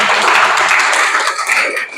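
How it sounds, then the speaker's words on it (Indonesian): Schoolchildren in a classroom clap their hands together in a dense, close burst lasting about two seconds, fading slightly toward the end. "kasih tepuk tangan dulu temennya ya."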